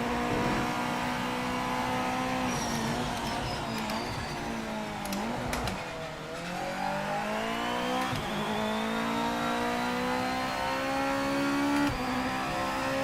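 A GT500 race car engine in Project Motor Racing revs hard and close, its pitch climbing and dipping through gear changes in one continuous drone with no talking.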